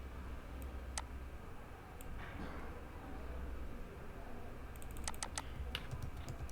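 Typing on a computer keyboard while editing a website in Elementor: scattered sharp key clicks, a few at first and then a quicker burst near the end, over a quiet room hum.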